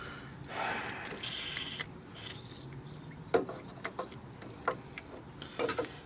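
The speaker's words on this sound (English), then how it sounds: "now I'm going to try to take off the lovely bolts right here that are holding the brake cylinder inside here" Brake cylinder bolts are worked loose on the rear brakes of a 1998 Ford F150, with ratchet clicks, metallic taps and brief scraping bursts heard close up and in short irregular spurts.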